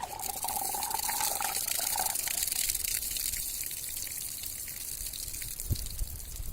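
Water pours out of a plastic bottle held upside down and swirled, a steady gushing rush with a gurgling tone early on, fairly close and continuous.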